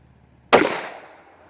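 A single sharp pistol shot from an FN Five-seven, fired outdoors on a range, cracks loudly and then trails off in a decaying echo over about a second, with no voices.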